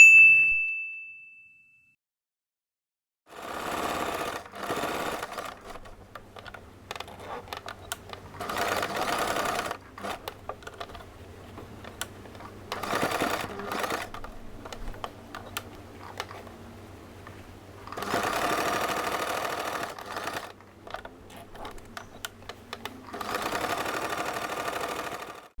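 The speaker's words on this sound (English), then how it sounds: "Now we are going to sew a top stitch all around the zipper." A sewing machine top-stitches around a pouch zipper in several runs of steady, rapid mechanical whirring, separated by pauses with small clicks and clanks, after a single bright ding at the start.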